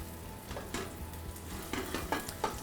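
Monkfish medallions fry in a hot pan with a steady, even sizzle, broken by a few soft stirring scrapes.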